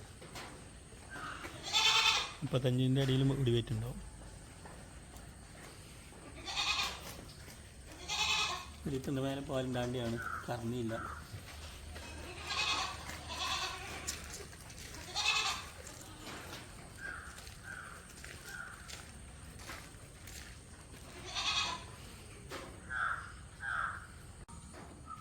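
Several Malabari goats bleat in bursts, some loud and close, others shorter, while someone talks steadily over them with crows cawing faintly in the background.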